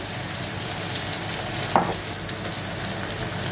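Onion sizzles softly and steadily in a pan while a cabbage and meat gratin is being made, with one brief utensil scrape midway.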